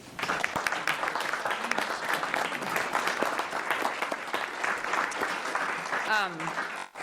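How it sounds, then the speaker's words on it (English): A room at a McLeod County board meeting breaks into a round of applause for the retiring county attorney, steady group clapping sustained throughout, with a brief voice near the end. "If we could please give him a round of applause."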